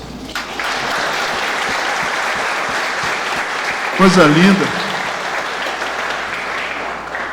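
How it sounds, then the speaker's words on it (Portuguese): A congregation applauds inside a Presbyterian church. The clapping is steady and sustained throughout, and a voice briefly speaks over it partway through. "uma salva de palmas para esses irmãos"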